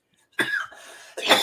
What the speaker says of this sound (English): Okay, now he's coughing.